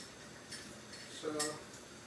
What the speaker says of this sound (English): got to finish up doing the dishes here